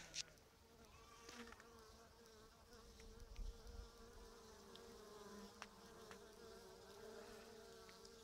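Honeybees buzz around a wooden beehive being readied for overwintering in cool weather, a steady faint drone with individual bees passing close now and then.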